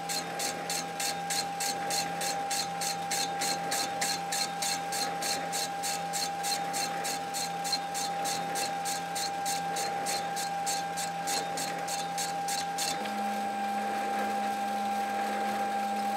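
Lathe machining the flywheel of a Stuart Beam model steam engine, a steady rhythmic ticking chatter with a constant whine that shifts pitch partway through, moderately quiet and without talk.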